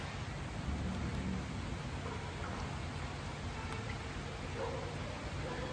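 Steady rain falling over a city and hills, heard from a rooftop in Sikkim as a dense, continuous hiss with a low rumble beneath and no clear breaks.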